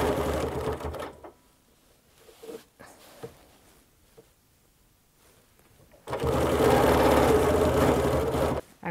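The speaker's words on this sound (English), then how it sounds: "So I'm going to stitch around until I come to this circle." Sewing machine stitching a quilt, short bursts early on, then a quiet pause with small handling noises, followed by a long, loud, steady run of rapid stitching.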